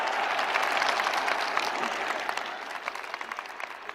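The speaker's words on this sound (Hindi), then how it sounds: "आइए हम सब लोग मिलकर आनंद से, प्रेम से, हृदय से गुरु महाराज जी का करतल ध्वनि से स्वागत करते हैं।" An audience claps together in a sustained round of applause welcoming a guru at a spiritual gathering, a dense steady patter that stays loud and gradually thins toward the end.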